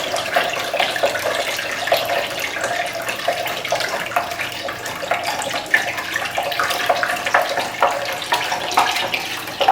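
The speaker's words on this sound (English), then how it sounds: "let's go ahead and start adding the water" Water streams steadily into a container of lemonade mix with sugar and salt, a continuous splashing pour with no talking.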